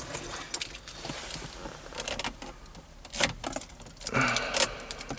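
Car key jangling and clicking as it is handled and turned in the ignition of a Mazda CX7, a few close metallic rattles and clicks in a quiet cabin, with a brief whir near the end.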